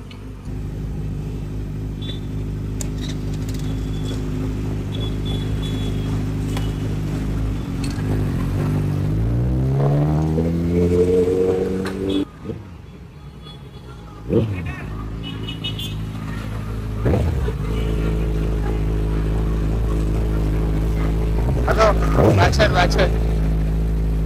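A Kawasaki Z900 motorcycle ridden through traffic with a louder aftermarket-style exhaust, its engine droning steadily close by, swelling into a rising rev around the middle, briefly dropping away, then settling back into a strong continuous rumble.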